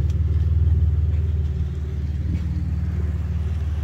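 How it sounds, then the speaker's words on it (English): A Pontiac Grand Prix with a 3.8 liter V6 and muffler delete idles with a deep, steady exhaust rumble close by, loud and even with a slight pulsing throb and no talking. "Tail pipes are running on the Grand Prix."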